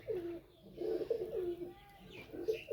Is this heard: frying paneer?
no